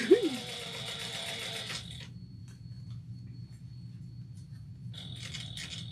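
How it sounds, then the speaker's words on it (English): Domestic sewing machine top stitching an eighth of an inch around a stabilized pack for a travel bag, a steady whir for the first two seconds, then mostly quiet with faint machine hum before the motor picks up again near the end. "I'm going to top stitch 1/8 of an inch around to help hold the stabilizer"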